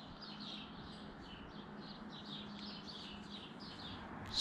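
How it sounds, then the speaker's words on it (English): Birdsong fills a town street in the early morning: a continuous chorus of chirps and short calls, some distant and some closer, over a constant low rumble. "And apparently so is every bird in town."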